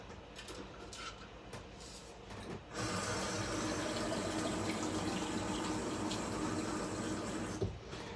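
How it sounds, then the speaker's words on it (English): Water poured into the reservoir of a Keurig coffee maker in a home kitchen, a steady rushing stream that begins about a third of the way in and runs to the end, with no talking. "I'm adding some water to the Keurig."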